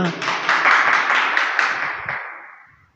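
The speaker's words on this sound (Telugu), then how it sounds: "చప్పట్లు కొట్టండి గట్టిగా" Audience applause fills a church service, a dense wash of many hands clapping loudly for a couple of seconds before tapering off into quiet.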